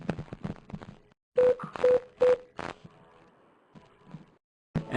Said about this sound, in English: And now I'm going to issue *8, I believe it was 5. Yeah, *85 for the conference on the PSTN phone.